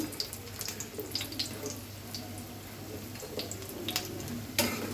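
A quiet, continuous sizzle of lentil dumplings frying in oil, dotted with small crackling pops and a sharper burst near the end.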